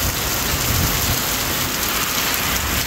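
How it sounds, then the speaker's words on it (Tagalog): Heavy rain mixed with hail pounds a car roof in a dense, continuous close drumming and hiss, loud and unbroken throughout, with no voices. "Yung ulan may kasamang yelo"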